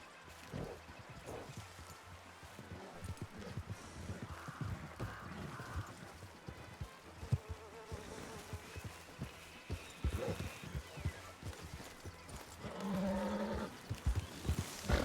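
Horse hooves clop in an uneven series of sharp, close taps in a video game, with a brief neigh-like call and animal sounds in the background, and no talk.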